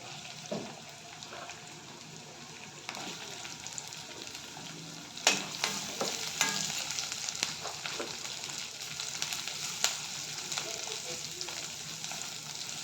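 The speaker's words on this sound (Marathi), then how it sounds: "कांद्याला छान लाल तांबूस रंग येईपर्यंत परतून घ्यायचा आहे तेलामध्ये." Onions frying in oil for baingan bharta, a soft continuous sizzle with occasional stirring scrapes and clicks, louder in the second half.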